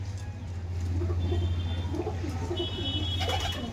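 Domestic pigeons in a loft of more than a hundred birds coo in a low, continuous murmur over a steady droning hum, with no talking.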